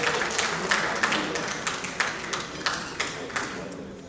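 Scattered applause from a seated audience at a formal evening event, a few distinct hand claps standing out over a soft steady patter that slowly fades.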